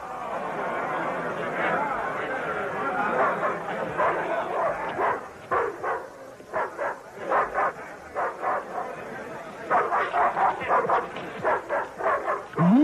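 A big dog barks in a dubbed film, giving a run of deep, loud, rhythmic woofs and yelps over a dense scored background, with voices mixed in.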